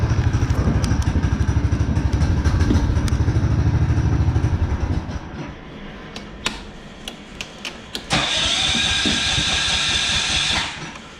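A small mini bike engine, started on choke in a cold space, runs with a rapid popping putter for several seconds and then cuts out. Sharp clicks follow, then a loud steady hiss.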